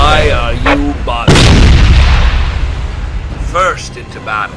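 A siege cannon fires once during an orc fortress assault in a video game: a loud, booming blast with a long rumbling decay, and voices speak before and after the shot.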